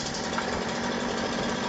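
Steady idle of a Ryobi RY3818 gas chainsaw engine while its carburetor is being adjusted, a continuous buzzing drone at close range with no voices.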